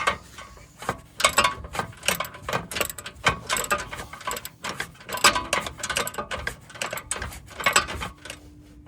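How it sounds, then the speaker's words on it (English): A ratchet loosening a bolt under the skid plate of a 3rd Gen Toyota 4Runner, with repeated clicking strokes in uneven bursts, close and fairly loud throughout. "to loosen this bolt up."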